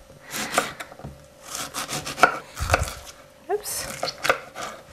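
A knife scrapes and slices through lemon skin in a kitchen, a string of short rasping strokes close up, uneven in rhythm, with small clicks from the board between cuts.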